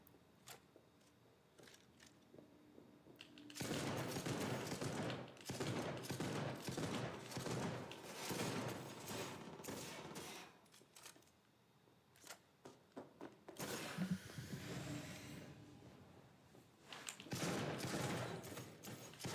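Bursts of automatic gunfire from the video game Cyberpunk 2077, played on PS4, crackle in dense runs with short quieter gaps, loud and close, mixed with mechanical clicks.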